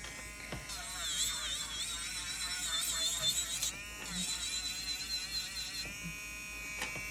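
An electric nail drill with a bit grinds old dip powder off fingernails: a close, steady high-pitched buzzing whine that wavers in pitch and briefly cuts out and restarts.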